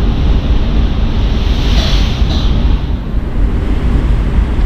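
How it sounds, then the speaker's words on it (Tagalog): Strong wind roars and buffets the microphone over the rush of open water and waves, loud and continuous throughout. "Sobrang lakas ng hangin."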